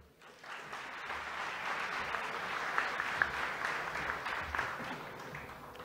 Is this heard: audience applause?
yes